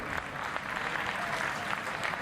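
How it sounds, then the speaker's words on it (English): Dense, sustained crowd applause at a football grand final in a stadium, many hands clapping together in a steady loud wash that holds evenly without pause. "What about a round of applause for the two sides who turned on a magnificent spectacle this afternoon?"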